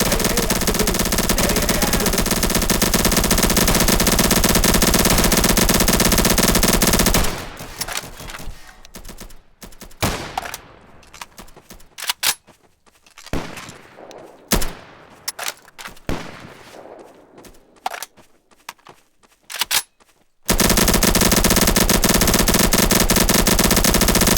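Sustained bursts of machine-gun fire in a military training exercise, volleys crackling loud and close for about thirteen seconds, broken by brief gaps between rapid strings of shots.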